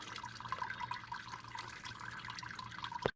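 Coolant trickles and drips from the bottom of a 2014 Jaguar XF 2.0L radiator into a bucket, a continuous close splashing patter of liquid with a sharp clunk right at the end.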